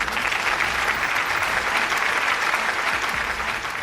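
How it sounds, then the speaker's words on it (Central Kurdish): Studio audience applause at a university quiz show, a steady dense wash of clapping filling the whole stretch at even loudness as a contestant is welcomed. "ئەمەوێ بە چەپڵەیەک پێشوازی بکەین لە هەوراز."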